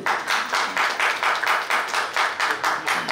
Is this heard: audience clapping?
yes